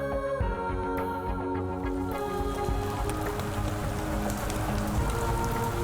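Winter rain falls on a sugarcane field, a dense, steady patter of drops hitting the surface that stays close and fairly loud throughout, with no voices.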